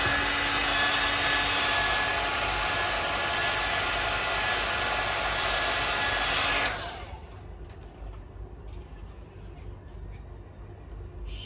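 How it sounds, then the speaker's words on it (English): A hair dryer blows hot air onto a part of a 1/6 scale figure, a loud steady whoosh for several seconds before cutting off abruptly, leaving a quiet room with faint handling noise. "another check with the hair dryer"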